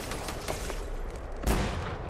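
A gun firing in the video game Fortnite season 9, a short run of sharp shots with one heavier blast near the end, against a constant din of game noise.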